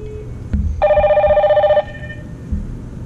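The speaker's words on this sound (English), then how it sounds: "if we now press the button on the outdoor station, that is ringing both the indoor station and the app." A Hikvision 2-wire video intercom, triggered from the outdoor station, rings through the Hik-Connect app as a steady electronic ringtone of about one second, preceded by a click and heard alone against a quiet room.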